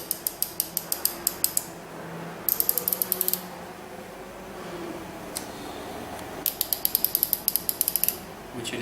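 Genius Tools 72-tooth ratchet clicking rapidly in short bursts, a crisp, close, dense metallic ticking that stops and starts several times over a faint background hiss, with no talking.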